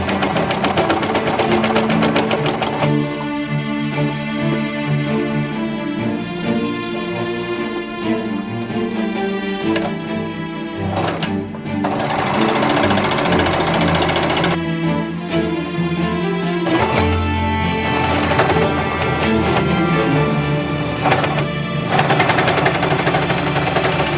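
A serger stitches through four stacked layers of fabric, a loud continuous mechanical whir with rapid rhythmic needle chatter running steadily throughout, briefly easing around the middle before resuming.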